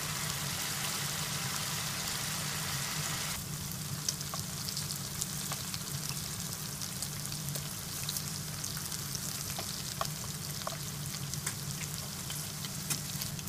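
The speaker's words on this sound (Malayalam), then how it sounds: "ഇതിനെ മീഡിയം ഫ്ലെയിമിൽ വെച്ച് ഫ്രൈ ചെയ്തെടുക്കണം" Marinated prawns frying in coconut oil in a pan over a medium flame, a continuous close, even sizzle with scattered small pops and crackles throughout.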